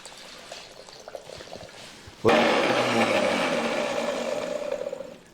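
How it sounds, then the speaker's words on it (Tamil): Juice pours into a tumbler in a steady splashing stream that starts abruptly and runs loud for about three seconds, tapering slightly toward the end. "நான் ஒரு டம்ளர் ஊற்றிக்கிறேன்"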